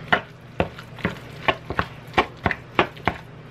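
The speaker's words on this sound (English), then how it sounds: "The hardest part about guacamole is just chopping everything up." A knife chops ingredients for guacamole on a cutting board in a home kitchen, with about a dozen crisp, fairly even strikes at a steady rhythm, close and clear, no voices.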